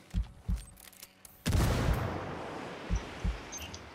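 Gunfire in Ghost Recon Wildlands during a quarry firefight: faint, distant thumping shots, then one louder blast that trails off into a lingering rumble, all fairly quiet.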